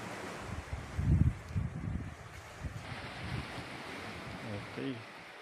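Sea waves at the shore near Pagudpud, Ilocos Norte, soft surging wash with a few low swells and wind buffeting the microphone, while people talk faintly nearby.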